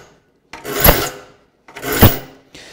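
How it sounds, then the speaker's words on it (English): A file rasps across the teeth of a rip hand saw in two distinct, close strokes, each rising and fading, separated by short silences. "let me try to start filing that one so you can see what we've got"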